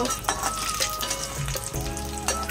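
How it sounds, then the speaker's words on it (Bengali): Eggs fry in a hot pan with a dense, steady crackling sizzle, close and fairly loud, with brief clicks of stirring throughout. "ভালো করে লাল লাল করে ভেজে নিই"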